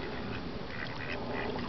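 Ducks at a forest preserve quarry give a few faint, raspy quacks over outdoor background noise, heard from a short distance.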